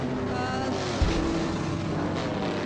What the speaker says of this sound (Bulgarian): Това е звук от няколко десетки мотори, които току-що пристигнаха.